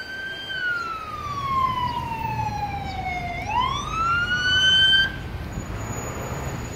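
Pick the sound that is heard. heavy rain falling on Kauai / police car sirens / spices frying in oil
police car sirens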